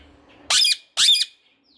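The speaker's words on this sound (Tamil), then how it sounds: "இங்கே ஒரு குருவி கத்துதுப்பா" A sparrow gives two sharp, close chirps about half a second apart in otherwise quiet surroundings.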